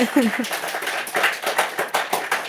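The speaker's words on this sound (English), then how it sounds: "Ladies and gentlemen, a wee round of applause for them being so" A small audience gives a brief round of applause for guests on a Scottish Young Farmers wellbeing special. A voice speaks at the start, then scattered, moderately close claps follow in an uneven rhythm.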